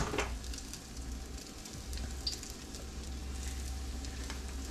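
Beer-battered smelt fry in hot oil with a steady, close sizzle and crackle that holds its level from start to finish, with no voices over it.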